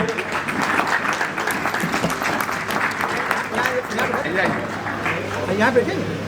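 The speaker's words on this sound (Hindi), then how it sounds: "हम सब जोरदार तालियों से स्वागत करेंगे" Audience applause welcoming a speaker at a Loktantra Senani Sangh Vijay Diwas gathering, a steady dense clapping that runs the whole time with voices mixed in beneath it.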